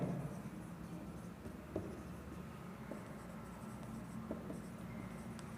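Chalk or a marker moves steadily across a board during a solid-state chemistry lecture, making soft continuous scratchy strokes with a few small taps, all under a low room hum with no talking.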